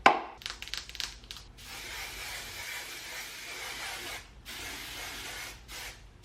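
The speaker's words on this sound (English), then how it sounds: "we're gonna take hairspray. I'm gonna use the Sexy Hair hairspray." Sexy Hair hairspray misted from an aerosol can onto pinned curls: a few short bursts at the start, then a long sustained hiss, a brief gap, and another long spray, close and fairly quiet with no talk.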